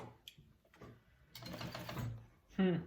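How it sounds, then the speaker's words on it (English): Sewing machine stitching a seam with a 3/8 inch allowance through a circle bag, a short whirring run of stitches starting midway and stopping, with handling clicks before it. "You're just sewing all that together, and I'm using a 3/8 seam allowance."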